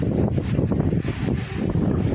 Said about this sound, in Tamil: நல்ல மரம் ஆடுது காற்று சூப்பராக வருது